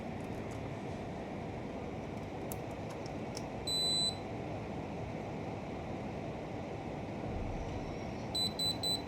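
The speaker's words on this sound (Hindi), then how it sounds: "ये देखें, यहाँ पे इसने डबल बीप दिया है।" A Kenwood e Luxury Pro air conditioner entering pairing mode gives short, thin electronic beeps, faint over a steady broadband hiss, with a brief double beep near the end.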